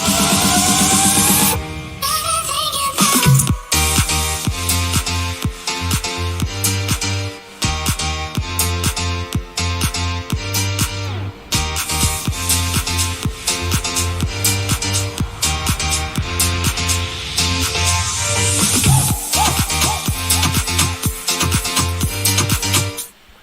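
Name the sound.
electronic music demo with piano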